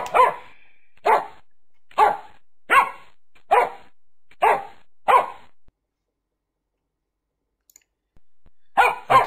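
A dog barks loudly nearby at an even pace, about seven sharp barks about a second apart, then a pause of a couple of seconds before two more barks.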